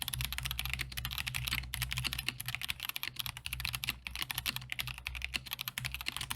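Continuous typing on a KEMOVE K98SE retro-style keyboard fitted with red linear switches, a steady close-up clatter of keystrokes with brief pauses and no voices.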